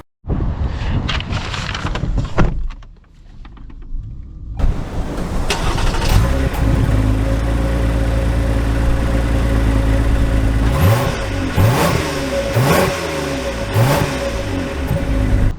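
A 2024 Lexus ES 350 F Sport engine cranks and fires, settles into a steady idle, then pulls away with rising revs and gear changes, loud and close from inside the cabin.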